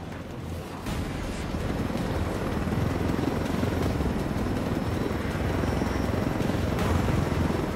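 A helicopter in the video game Ghost Recon Wildlands, a steady dense rotor and engine roar that swells early and holds loud and continuous throughout, with no talk.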